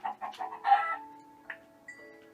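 A duck, a chicken-like farm mob in the Minecraft video game on PS4, gives a few short clucking calls followed by thinner sustained game tones, close and clear with nobody talking.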